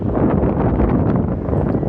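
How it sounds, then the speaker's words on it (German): Strong, steady wind buffets the microphone on a 114-metre Tibet-style pedestrian suspension bridge in Heiterwang, Austria: a loud, continuous roar with no break. "es ist verdammt windig"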